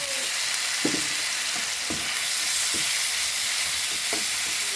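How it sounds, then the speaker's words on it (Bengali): A spice paste of ground onion, garlic, turmeric, cumin and coriander fries in a pan, giving a steady bright sizzle throughout, with occasional scraping knocks of a spoon stirring it. "মশলাটা আমি কষায় নেব, কষিয়ে দেখুন আমার মশলাটা কষানো হয়ে গেছে।"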